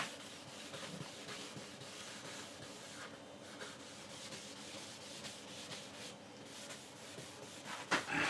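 A cloth rubs stain off a 1936 Bush battery radio cabinet in quiet, steady back-and-forth strokes, close and faint, ending in a couple of louder knocks.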